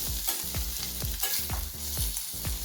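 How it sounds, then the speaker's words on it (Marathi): Chopped onions fry until reddish in a pan, a steady sizzle broken by rhythmic scraping strokes of a spoon stirring them every half second or so. "हा कांदा आपण लालसर होईपर्यंत भाजून घ्यायचा आहे"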